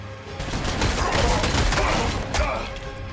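Gunfire in the Warhammer 40k game Sanctus Reach, a dense rattling fusillade of rapid overlapping shots with thuds, loud and continuous across the clip, no talking.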